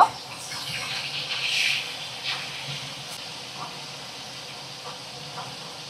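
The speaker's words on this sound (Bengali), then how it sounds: "মাছগুলোকে দেখো উল্টে পাল্টে ভাজা করে নেব।" Pieces of rohu or katla fish fry in oil in a pan, giving a steady low hiss with a brief louder flare of sizzle early on and faint scattered pops after.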